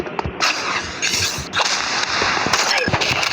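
Sniper rifle shots in the video game Rivals: several sharp, loud cracks burst out at irregular intervals over dense, busy game noise.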